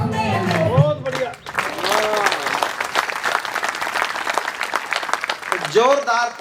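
Loud audience applause at a cultural festival performance, a dense sustained wash of clapping with a voice speaking over it at the start and again at the end.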